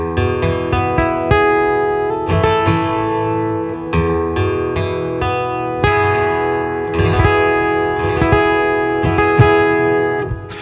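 An acoustic guitar runs through a cheap EQ pedal set with boosted bass and 630 Hz, a slight cut around 1.2 kHz and a strong cut at 4 kHz, playing a lively strummed and picked passage of ringing chords with sharp attacks over about ten seconds.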